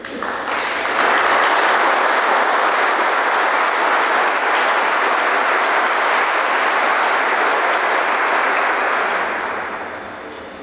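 Sustained applause for award recipients at a Villanova University Navy ROTC Spring Review ceremony: a large audience claps loudly and steadily for about ten seconds after a brief quieter start, then begins to fade at the end.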